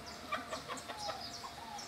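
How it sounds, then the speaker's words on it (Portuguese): A rooster standing on one leg on a small farm gives a run of soft, quick clucks, faint and fairly close against light background noise. "esse galo tá fazendo aqui sobre uma perna só?"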